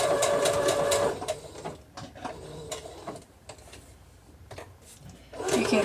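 A domestic sewing machine works a buttonhole-stitch applique, whirring in short rapid bursts that stop and start, with quieter gaps of faint mechanical clicks between runs, close by and alone.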